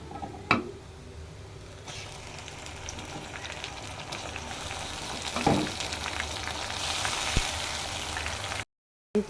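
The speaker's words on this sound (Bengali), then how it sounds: "এখন দিয়ে দেবো এখানে পেঁয়াজ আদা রসুন ব্ল্যান্ড করা" Blended onion, ginger and garlic paste frying in oil in a pan, a continuous soft sizzle with occasional spatula clicks and a louder hiss near the end before a brief cutoff.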